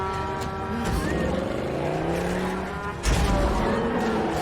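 Car driving on a road in a fantasy TV episode, a steady engine and road rumble under a musical score with some talk, and a sudden louder crash-like surge near the end.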